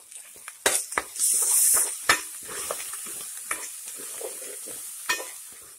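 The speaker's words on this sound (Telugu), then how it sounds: "సిమ్లో పెట్టి ఇందులో గరం మసాలా వేసి ఫ్రై చేయాలి" Garam masala fries in oil over a low flame for egg malai curry, a soft continuous sizzle broken by repeated stirring scrapes and a brief louder hiss.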